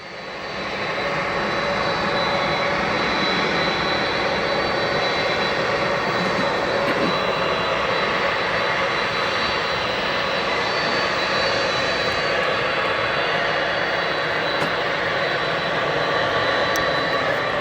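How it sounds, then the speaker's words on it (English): A Boeing 767 jet idles and taxis at O'Hare airport, its engines giving a loud, continuous roar that holds steady throughout, with no voices. "it might be a couple minutes until this 767 is cleared to cross runway 10 center to get to parking"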